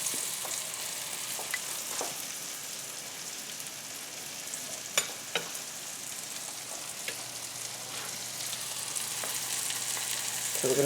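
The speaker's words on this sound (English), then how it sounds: "You got a nice sizzle going there." Chicken cutlets fry in a hot pan for chicken Marsala, a soft continuous sizzle with occasional pops and crackles, fairly quiet and steady throughout.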